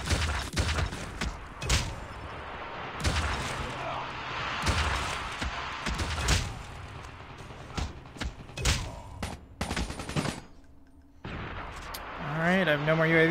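Rapid gunfire from the KN44 assault rifle in Call of Duty Mobile, repeated sharp bursts and thuds of in-game shots with explosions mixed in, fairly loud amid game effects.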